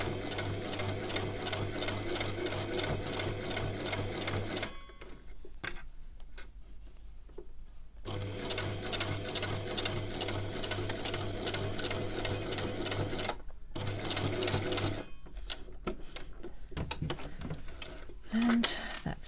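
A sewing machine stitches a face mask, running a second line over the earlier stitching as one continuous thread. It buzzes in long, steady runs with two short pauses, loud and close.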